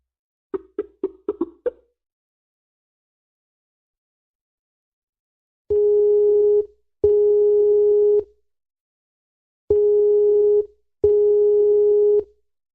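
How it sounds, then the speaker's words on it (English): A Skype call is disconnected and a busy tone sounds: a quick burst of short beeps, then four longer steady tones in pairs, loud and alone with silence between. "3 or 4 calls I keep getting disconnected on Skype."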